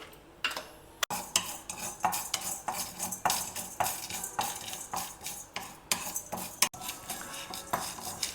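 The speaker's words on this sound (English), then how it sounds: "Over a low flame, roast the methi seeds till they lightly change color." Methi seeds and hing crystals dry roasting in a pan over a low flame, with steady scraping and clinking of a metal spatula against the pan in repeated strokes, close and fairly loud, no voices.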